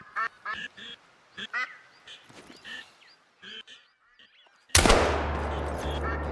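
Duck calls and quacks in a duck hunting video game come as short bursts over a quiet marsh backdrop, then a loud shotgun blast cuts in near the end and leaves a steady rumble.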